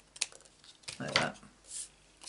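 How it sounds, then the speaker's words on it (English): Scissors trimming a piece of cardstock for a Stampin' Up handmade card, a few short crisp snips close by in a quiet room, with faint handling noises between cuts. "and then we're going to trim this off"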